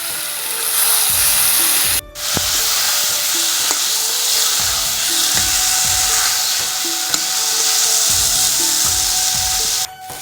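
Taro leaves seasoned with salt and turmeric fry in a pan with a steady, loud broadband sizzle, punctuated by rhythmic scraping stir strokes and a couple of brief pauses, with no talking.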